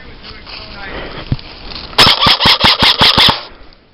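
A burst of about seven rapid airsoft gun shots cracks out close and loud during an outdoor airsoft skirmish, following a single earlier pop amid quiet outdoor background.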